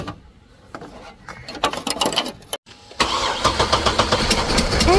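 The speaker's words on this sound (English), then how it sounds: "Engine started" A Hummer H3 engine cranks and catches after its water pump was replaced, a few seconds of uneven starter whirring followed by a brief pause, then a steady, close idle with rhythmic pulses.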